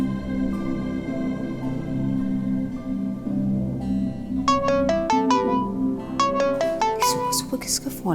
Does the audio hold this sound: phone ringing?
yes